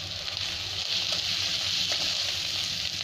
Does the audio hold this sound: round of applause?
no